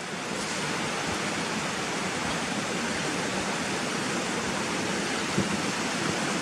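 Steady rushing of flowing river water, a constant broadband roar with no pauses and no voices.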